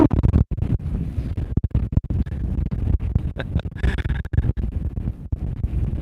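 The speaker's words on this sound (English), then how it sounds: "This is really, really windy today." Strong outdoor wind batters the microphone with loud, irregular low rumbling gusts and buffeting thumps, continuous throughout.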